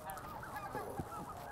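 Snow geese in a flock honk in a short overlapping chorus that sounds moderately distant, with no talking.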